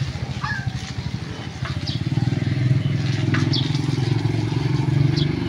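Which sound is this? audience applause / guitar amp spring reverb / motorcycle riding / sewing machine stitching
motorcycle riding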